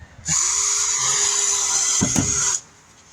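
A power drill with a 1/8-inch bit whirs with a steady high-pitched whine for about two seconds, close by, with a brief rattle near the end before it cuts off, fitting a spoiler to a 1973 Mustang.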